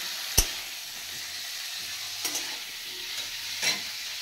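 Turmeric being stirred into food frying in a home kitchen pan: a few scraping spoon strokes over a soft, steady sizzle, with no voices.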